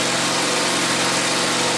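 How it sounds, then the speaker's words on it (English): A grinder on a concrete garage floor gives a loud, continuous high-pitched grinding whine with a harsh, gritty texture, steady throughout and close up, with no voices. "Grinding away at the floor."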